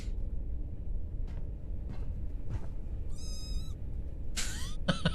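Short cat meows inside a space-station setting in the game Stardrop, a few bright calls near the end over low background hum.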